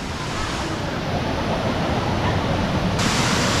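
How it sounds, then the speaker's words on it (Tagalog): Balongbong Falls in Catanduanes, a waterfall's lower first tier, pours in a steady, dense rush of water that stays loud and constant from start to end with no break. "Ito yung pinaka first level ng waterfalls."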